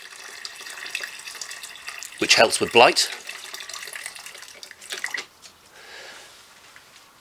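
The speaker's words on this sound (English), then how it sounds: "you can water the plant without getting the leaves all wet" Water poured from a can onto a plant in a no-dig greenhouse, a close splashing gush lasting about a second in the middle, with lighter trickles around it, while a person talks over it.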